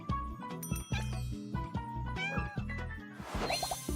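Cats meow in the Love and Deepspace game, a run of short high cartoonish mews in quick succession over a chiming musical backing, ending in a bright jingling flourish.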